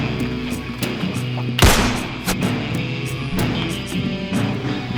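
A single loud gunshot rings out in an action film scene, a sharp broadband crack standing out against a busy, dense soundtrack of music and effects.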